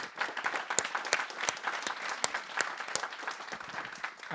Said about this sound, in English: big round of applause for the 3 of them